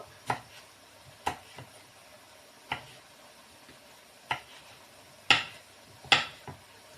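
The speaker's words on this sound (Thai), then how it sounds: "ก็หั่นพริกอะค่ะหั่นพริก หั่นพริกนี่นะคะ" A knife chops chili peppers for American-style fried rice, giving sparse, sharp taps spaced about a second apart on a board, close and fairly quiet, with a couple of slightly louder cuts near the end.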